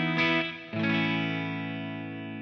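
Electric guitar played through a Matchless amp model with a medium plate reverb, two struck chords ringing out with a wet, sustained tail that fades slowly; loud, close and alone with no talk.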